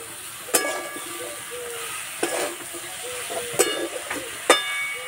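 Peas drop into a pan of sizzling spinach and mixed vegetables for a labra, giving a steady soft fry with several sharp clatters and stirring scrapes at irregular intervals, close up.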